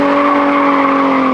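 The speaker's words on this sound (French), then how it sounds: "Je gaze up et je clutch out et ça drift tout seul" A stage 2 BMW 435i drifts through city streets in Montreal, its tires squealing in one loud, sustained, steady screech with the engine droning underneath.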